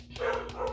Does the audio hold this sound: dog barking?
yes